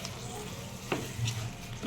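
Mushroom masala curry being stirred in a pan, a soft continuous sizzle with scraping stir strokes and one sharp clink near the middle, close and fairly quiet, with no voices.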